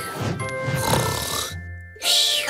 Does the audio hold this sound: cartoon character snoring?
yes